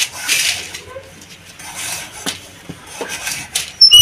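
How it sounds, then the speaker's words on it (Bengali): A knife cuts a potato in a home kitchen, producing soft, irregular chopping taps and scraping clatter with light handling noise, close and moderately loud. "আলুটা কেটে নিচ্ছি"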